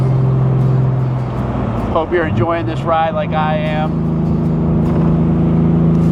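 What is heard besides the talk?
1966 Mercedes-Benz 230 SL driving in 4th gear on back roads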